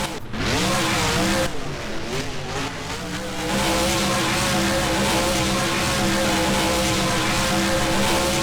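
A Fiesta monster truck doing a donut in BeamNG, its engine revving loud and steady with rising and falling pitch, tires scrubbing under a constant roar.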